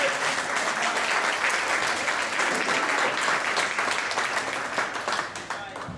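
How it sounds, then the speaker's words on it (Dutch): Wedding guests give Rebecca a dense, sustained round of applause, loud and even for several seconds before tapering off slightly at the end. "Een applaus voor Rebecca om dit stop te verwezenlijken."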